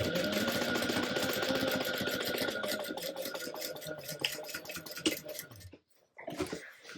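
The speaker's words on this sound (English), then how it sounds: "we'll sew these together with a 3/8 inch seam allowance" Machine stitching joins a gusset to the bottom panel of a sewn bag with a fast, dense mechanical whir that slows and sputters near the end before a short quiet gap and a final brief burst.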